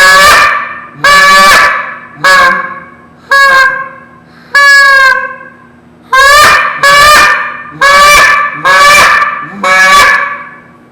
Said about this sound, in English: I'm not the best in the world at blowing a goose call.